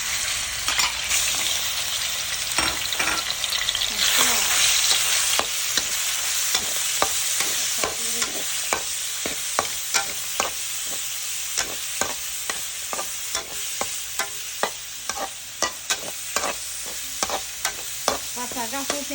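Ground pork stir-frying in hot oil, a continuous sizzle with a steady rhythm of sharp spatula scrapes and taps against the pan, close and fairly loud.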